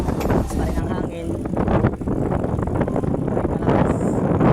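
Strong wind near the sea buffets the microphone in a constant roaring rush, with a person speaking faintly underneath.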